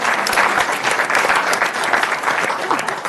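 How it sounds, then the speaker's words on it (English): An audience at a city council meeting breaks into loud, close applause, a dense and steady burst of many hands clapping with some crowd murmur mixed in. "let's give her another round of applause."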